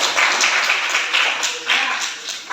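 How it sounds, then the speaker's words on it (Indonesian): Students in a classroom clap their hands together in a lively burst, the sharp claps swelling in a few waves and staying close and loud with little else heard. "tepuk tangan buat Bagis yang sudah menjawab pertanyaan"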